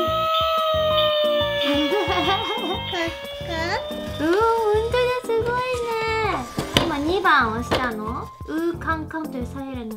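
A Toyco sound-pump toy fire engine siren wails with a warbling, looping tone throughout, loud and close, with a voice and clicks mixed in.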